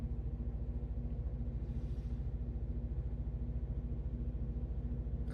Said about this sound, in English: If you can hear my laundry machine right now,